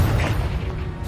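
Confringo fire spell blast in Hogwarts Legacy, a loud rumbling burst with mechanical crackle and booming low end that holds steady for about a second, with no voices.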